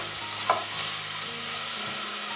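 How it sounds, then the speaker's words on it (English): Diced red and sweet white pepper cooking in a pan under a soft, even sizzle, with one brief utensil tap near the start and a low steady hum beneath. "pepper diced, you can use green if you like, sweet white pepper, and we let that cook for about 2 minutes."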